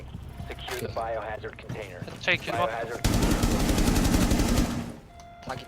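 Rapid automatic gunfire from an enemy shooting while prone in a shooter game, a loud, dense burst lasting about two seconds following some overlapping voices.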